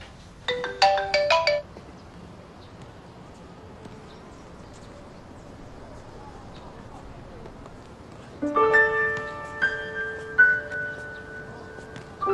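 An incoming call sets off a mobile phone ringtone. It plays as a short melodic burst, then pauses, then rings again more loudly, with no one speaking over it.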